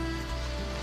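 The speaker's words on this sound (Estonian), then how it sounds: "Täpselt nii palju sajab kogu aeg," Steady rain falls continuously outside a small living space, a constant close hiss and patter with no break, heavy enough that water keeps collecting.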